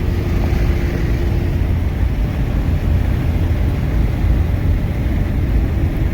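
A worn, cheaply bought Saturn Ion cruises along a road, its engine and tyre roar a loud, steady drone with a faint hum and no speech.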